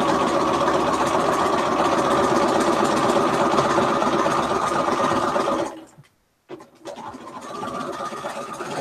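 A sewing machine stitching a Y seam on a quilt block, running in a fast continuous hum for several seconds, pausing briefly, then starting up again.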